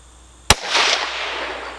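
A single sharp gunshot cracks once while a CVLIFE Bear Swift 5-25 scope is tested, followed by a brief fading outdoor echo.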